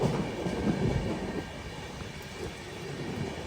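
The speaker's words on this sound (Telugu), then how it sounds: "స్లో అయింది ట్రైన్." The Chennai Central to Delhi Duronto Express rumbles on the rails, heard from inside the carriage. The low rolling noise eases slightly as the train slows down.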